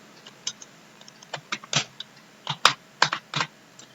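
The word winword being typed on a computer keyboard, around a dozen crisp key taps in uneven clusters, close up against a quiet background with no talking.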